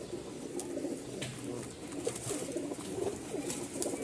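A male pigeon, a black-tailed tumbler, coos in repeated soft, throaty phrases close by, with faint rustling and background noise around it.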